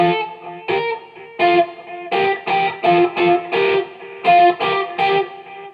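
Electric guitar plays measure 119 of a song, live AGT version, with slight distortion: a run of bright, articulated chord stabs and notes in uneven bursts, close and loud, ending on a pause.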